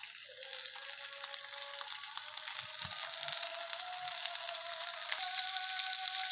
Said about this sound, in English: our octopus on the pan. We have added some garlic and some pili-pili. Added some few olive oil.